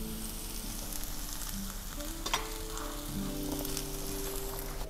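Onion, garlic and curry leaves fry in a pan with a steady close sizzle and soft crackling, plus one brief clink midway and no talking.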